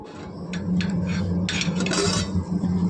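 A metal lid clanks onto a cooking pot of curry, with several sharp clinks and scrapes of cookware over a low, steady kitchen hum.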